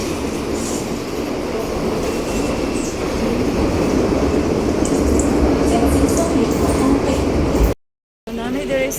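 Steady rumble and rattle of a Hong Kong MTR Red line train in motion, loud and continuous with faint wheel squeal, then a brief dropout before the ride noise resumes.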